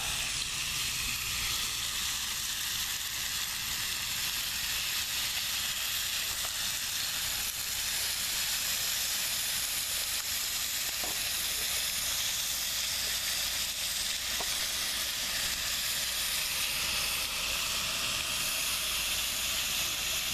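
Bok choy stir-frying in a hot pan gives off a steady, loud hiss and sizzle that runs unbroken throughout, with no talking over it.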